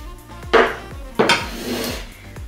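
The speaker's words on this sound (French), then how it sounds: "on va mélanger notre préparation de ricotta avec les épinards" Ricotta mixture and spinach being stirred together in a bowl for spinach gougères, with a few close spoon scrapes and clinks against the bowl, no voices.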